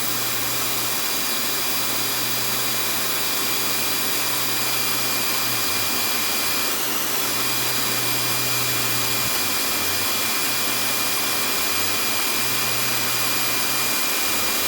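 A Mini Westech overlap welding machine heating up, producing a steady, loud, continuous whirring hum like a blower, with a slightly wavering low drone throughout and no talk.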